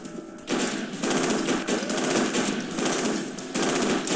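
Sustained bursts of automatic gunfire in the first-person shooter F.E.A.R. Perseus Mandate, loud and dense, broken by brief pauses, with no talking.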